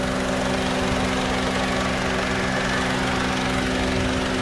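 An idling car engine with little mileage, heard up close as a steady droning hum with a constant buzzy tone and no change in pitch, running alone without talk.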